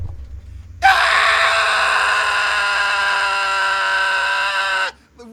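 A child next door lets out one long, loud, piercing scream that holds steady for about four seconds before cutting off.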